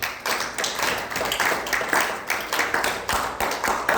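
A church congregation claps together in a steady, even rhythm, loud and close, the repeated sharp hand claps filling the space with no talking over them.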